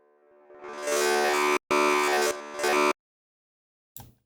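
A raw synth stab one-shot from a Black Box free pack: a bright, buzzy sustained chord that cuts out briefly, returns in two loud bursts, then stops, followed by a short faint tail.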